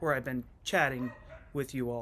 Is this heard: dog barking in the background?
yes